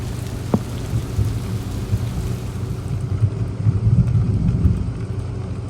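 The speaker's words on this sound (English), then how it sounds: "Big rainstorm." Heavy rainstorm in a bayou studded with small pine stumps, heard from a boat on the Tombigbee, with thunder: a dense, steady roar of rain that swells and gusts toward the end, and one sharp crack near the start.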